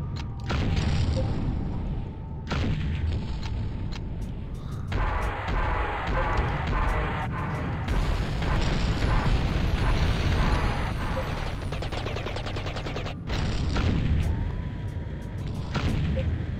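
Mortar fire and explosions in the video game Combat Commander, a run of heavy booms and bursts hitting in clusters with brief pauses, loud and dense throughout.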